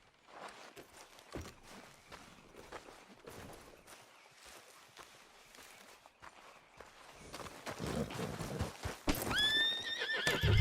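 In Red Dead Redemption 2, a horse's hooves clip-clop steadily as it walks and then picks up pace, growing louder, before a loud, close neigh rings out near the end.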